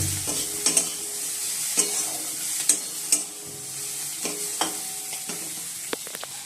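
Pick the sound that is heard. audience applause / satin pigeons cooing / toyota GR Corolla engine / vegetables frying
vegetables frying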